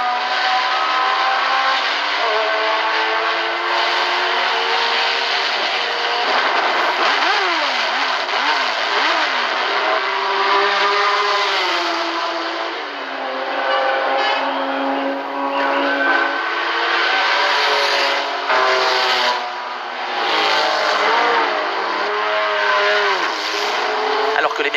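Race cars thunder around the Le Mans circuit in a continuous loud roar of engines, rising and falling pitch as cars pass and rev, with a narrator speaking over the din.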